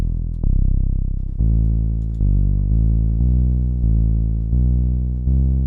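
A deep, sustained 808 bass made in the Serum synth, set to mono, playing a sequence of long notes, each sliding in with a thick, slightly buzzy low tone, with no voices.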